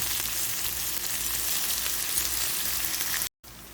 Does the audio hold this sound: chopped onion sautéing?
yes